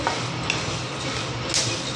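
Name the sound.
horse gram roasting and crackling in a pan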